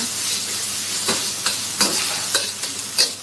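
Rice being stirred and scraped around a sizzling frying pan with chicken balls, with repeated spatula scrapes over a constant hiss of frying.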